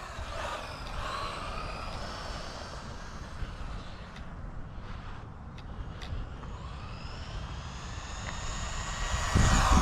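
A WLtoys 144001 brushless RC car runs at full speed through a full turning circle, giving a steady, loud motor whine with broadband rushing noise that rises and grows louder near the end.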